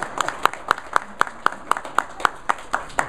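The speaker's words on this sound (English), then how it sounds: "Give Greg a round of applause." Sharp, evenly spaced claps ring out at a brisk regular rhythm as an audience at a community talk applauds, each clap distinct and fairly close, more like a single pair of hands than a full crowd.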